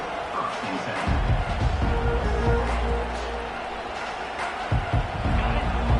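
A college football stadium crowd at a Stanford game, roaring steadily at a distance behind a play-by-play announcer, with a swell of noise near the snap.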